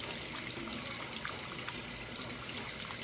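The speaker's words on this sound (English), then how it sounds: "Wash your hands though" Tap water running steadily into a kitchen sink during handwashing, a close, continuous splashing stream with light irregular trickles as hands move under it.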